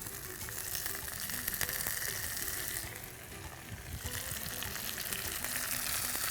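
Onions with squeezed tomatoes sautéing in a pan, giving a steady dense sizzle with watery hiss throughout, close and moderately quiet, with occasional faint utensil taps.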